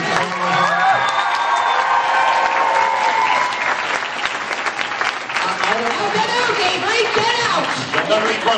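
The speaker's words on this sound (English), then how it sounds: "Let's have a big round of applause for Avery" Loud, close applause from a crowd at a live script reading, mixed with cheers, whoops and chatter, carries on throughout while voices call out over it.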